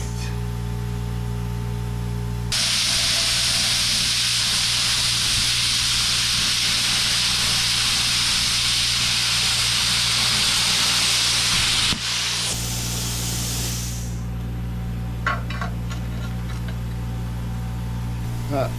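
A Yes Welder CUT-55DS plasma torch cuts metal with a loud, steady rushing hiss that runs about ten seconds, stops abruptly, then leaves a low hum and scattered clicks.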